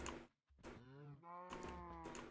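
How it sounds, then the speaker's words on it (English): Cows mooing close by in Minecraft, overlapping drawn-out lows, one call after another with a brief pause near the start. "What are my cows making so much noise about?"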